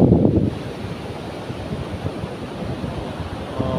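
Surf washes steadily onto a beach at Papamoa, a continuous broadband rush of breaking waves mixed with wind buffeting the microphone, a louder gust at the start.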